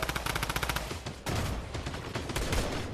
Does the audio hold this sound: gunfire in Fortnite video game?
yes